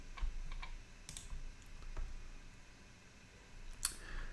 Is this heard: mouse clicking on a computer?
yes